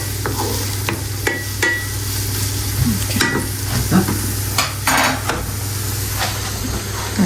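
Onions fry in a pan under a constant hiss and crackle, stirred with irregular scrapes and knocks against the metal, heard up close with no one speaking.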